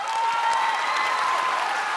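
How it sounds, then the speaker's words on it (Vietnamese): Studio audience applause on a Vietnamese TV show, a dense, steady wash of clapping from a large crowd, loud and sustained for the whole stretch. "Hãy dành một tràng vỗ tay thật lớn và cùng chúc mừng Jun."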